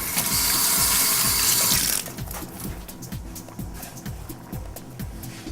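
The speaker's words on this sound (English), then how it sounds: "Let me just rinse my hands." Water gushes steadily from a kitchen tap for about two seconds as hands are rinsed, then cuts off, leaving a run of light mechanical clicks and taps nearby.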